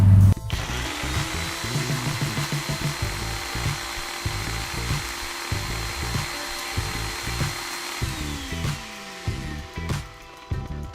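Dried elder leaves ground to powder in a small electric grinder, a steady loud whirring motor hum running for about eight seconds before winding down, with no talking.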